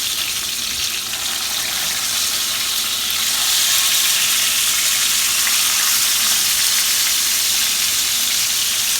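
Sausages and eggs frying in olive oil in a pan for a bagel breakfast sandwich, giving a steady, loud broadband sizzle that swells a little partway through and runs on without talk.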